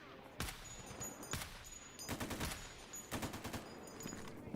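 Video game gunfire against Sin faction enemies, with sharp single shots at intervals and then tight bursts of several rounds, loud and close over a steady ambient background.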